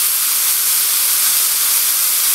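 Shiitake mushrooms cooking in a pan, giving a loud, steady hiss that continues without a break.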